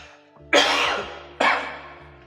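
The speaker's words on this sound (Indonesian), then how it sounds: "Mohon maaf, sampai batuk." Two sharp, loud coughs about a second apart, close to the microphone, with a faint hum underneath.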